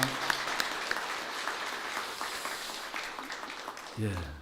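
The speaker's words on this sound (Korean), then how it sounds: "우리 환송 박수하겠습니다" Farewell applause from a church congregation, a moderate, steady patter of many hands with a few sharper claps, lasting throughout before fading, with a voice briefly rising near the end.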